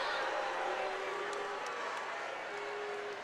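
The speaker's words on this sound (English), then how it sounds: "And you hear the crowd booing right now." Basketball arena crowd at an NCAA women's first-round game, Fairfield at Indiana, booing a foul call with a sustained broad roar that holds steady throughout, broadcast commentary audible over it.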